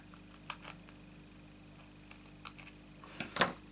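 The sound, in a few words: non-stick scissors cutting paper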